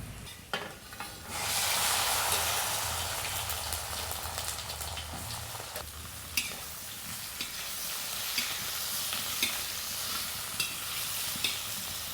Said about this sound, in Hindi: तो हमने इसको चढ़ा दिया है, काहे कि इसमें मसाला भूंजेंगे